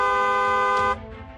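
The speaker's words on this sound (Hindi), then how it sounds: "इसलिए हॉर्न बजाएं।" A car horn blares in one sustained, loud, steady honk lasting about a second, then cuts off abruptly into a dim background hum.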